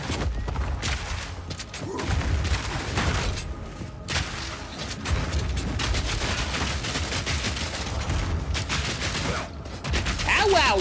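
Dense gunfire rattles without pause in a Path of Exile 2 fight while the player is surrounded, with bursts, thuds and booms layered into a loud, continuous barrage.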